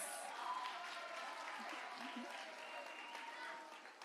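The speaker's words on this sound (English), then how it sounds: "Let's give him a round of applause." Audience applause at a school regional science fair, a steady spread of clapping from a crowd heard faintly and at some distance throughout, with a few voices mixed in.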